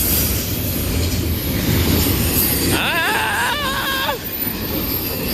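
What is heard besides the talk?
Norfolk Southern freight train passing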